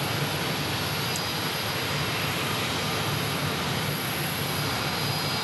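A JetBlue Airbus A321 arriving at Phoenix Sky Harbor airport gives off a steady, even jet engine roar, distant and fairly faint, unchanging throughout with no voices over it.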